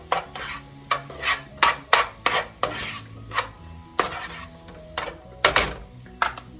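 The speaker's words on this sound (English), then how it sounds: "Give it a good stir." A spoon stirs gluten-free chicken spaghetti sauce in a pan on the stove, rhythmic scraping strokes about once per second with a faint sizzle underneath, close by.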